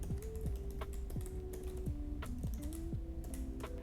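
SQL code being typed on a computer keyboard, a steady stream of close, crisp key clicks with a low tone humming underneath and no talk.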